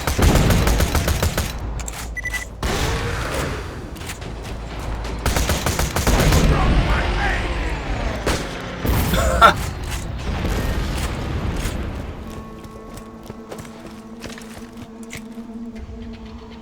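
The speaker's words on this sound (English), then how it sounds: "slag fire and then exploding" Rapid slag gunfire and explosions in Borderlands 2, dense bursts of shots and booms with mechanical clatter through the first twelve seconds, then quieter sustained tones and faint talk beneath.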